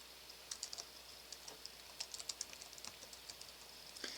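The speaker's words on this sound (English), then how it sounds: "So type in summary." Typing on a computer keyboard while entering a command in R, quick irregular key clicks in short bursts, faint and close, with no talk.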